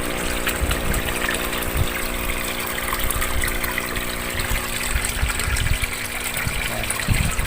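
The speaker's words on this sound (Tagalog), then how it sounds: "Ito yung ating air pump." A DIY bucket filter for an aquarium, its air pump running: a steady, close hum and rush of bubbling and trickling water that carries on without a break, with no talk.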